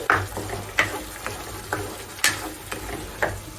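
Onions being stirred as they fry in a pan toward golden brown, with a handful of sharp spatula scrapes and clicks spaced about half a second apart over a soft, steady sizzle and low hum.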